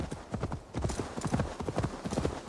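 A horse's hooves clop at a steady trot in Assassin's Creed Valhalla, a quick repeated rhythm of close, distinct hoofbeats continuing throughout the clip.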